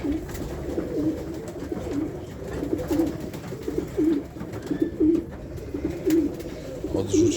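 Low, rolling coos from pigeons in an aviary repeat in a steady rhythm, close and clear over faint background noise.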